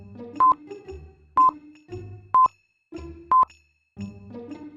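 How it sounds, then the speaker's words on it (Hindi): Telephone dialing tones sound while calling a bank, four short evenly spaced beeps, each between bursts of an electronic hum, clear and close with brief silent gaps. "मेहुल बैंक को फोन करके इन्फॉर्म कर देता है"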